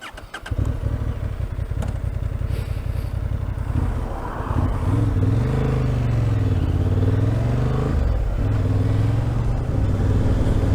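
A Honda CB750 Hornet motorcycle being ridden, its engine loud and close, revving up and down through rising and falling pitch sweeps as the bike accelerates and shifts, with no voices.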